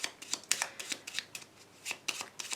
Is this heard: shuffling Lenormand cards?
yes